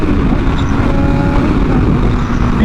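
A Yamaha R6 motorcycle with a slipping clutch rides in traffic, producing a loud, continuous engine drone and wind and road roar with a faint steady whine underneath.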